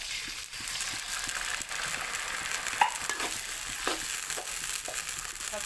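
Canned fish being stir-fried with water spinach in a pan, a close steady sizzle broken by repeated scraping stirs of the spatula, with no talking.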